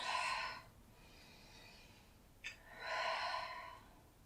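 Slow breathing during a seated spine-stretching exercise, two soft close breaths separated by a quiet pause with a short sniff between them, no talk.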